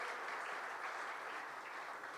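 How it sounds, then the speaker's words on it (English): Applause from an audience at the 2025 AGELess Awards hybrid event, a short, steady wash of clapping heard faintly and at a distance, with no talking over it. "one more round of applause for our 2025 AGELess Awards sponsors and our winners, all our supporters."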